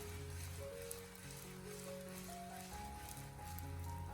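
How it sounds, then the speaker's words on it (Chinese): Chaoshan oyster omelette egg mixture pan-fries in oil over low heat with a soft, continuous crackling sizzle, faint and steady beneath sustained background music tones. "然后再继续的开小火给它不停的煎制一下，把鸡蛋液给它煎至成熟凝固。"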